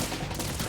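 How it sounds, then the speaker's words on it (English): Dense gunfire from Metal Gear Solid 2 rakes toward the player, a steady, loud burst of overlapping shots filling the whole short moment with no talk. "Just getting shot at."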